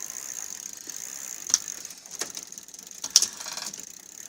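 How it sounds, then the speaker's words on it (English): The gears of a freshly oiled bicycle chain are shifted by hand, giving a few sharp ratcheting clicks over a faint, soft whir of the spinning drivetrain, heard close up. "you're going to want to go ahead and shift the gears"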